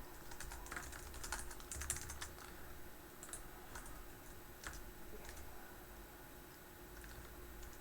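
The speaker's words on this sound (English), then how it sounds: "Typing." Typing on a computer keyboard while coding, a close run of quick uneven key clicks in bursts, then sparser taps, over a faint steady hum.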